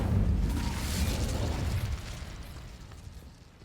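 A fire spell cast in the video game Hogwarts Legacy erupts in a loud, close burst of flame, then rumbles and roars for a few seconds before gradually dying away, with no voices over it.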